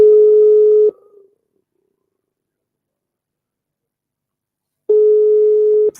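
Two bursts of a steady electronic ringback tone on an outgoing phone call, each lasting about a second and separated by a long silent gap, clear and alone with no talking.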